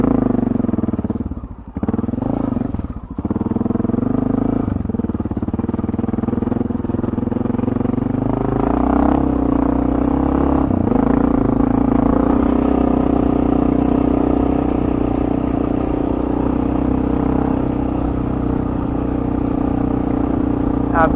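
Honda XR650L dual-sport motorcycle engine droning loud and close as it rides down a deep sand trail, with brief throttle dips early on, then steady sustained power and a clattering, rumbling tone throughout.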